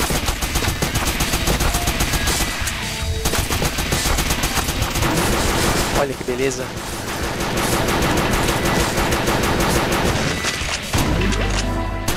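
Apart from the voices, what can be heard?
gunfire from video game Crimsonland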